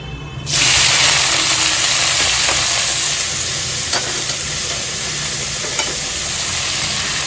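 Vegetables for chowmein hit hot oil in a wok and burst into a loud, steady sizzle, with a few stirring scrapes over the frying.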